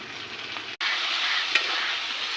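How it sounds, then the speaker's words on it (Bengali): Chopped tomatoes fry in oil in a wok with a steady, close hiss of sizzling, broken by a sudden brief dropout and a small stirring clink partway through. "কড়াইয়ের মধ্যে দেবো কুচনো টমেটোটাও দিয়ে দিয়েছি একেবারে। একটু ভাজা ভাজা হোক"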